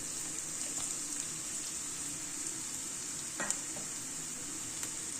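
Sprouted moong beans being stirred into frying homemade garlic masala in a pan, a steady soft sizzle with occasional scraping strokes of the spoon, close and alone without talk.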